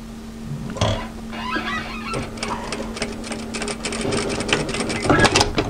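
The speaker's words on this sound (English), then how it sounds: "So now I'm going to take the other side of it and tack stitch it to the other notch." Sewing machine tack stitching a cotton apron pocket: a steady close mechanical whir with rapid needle clatter running through, speeding up in short bursts and alone without talk.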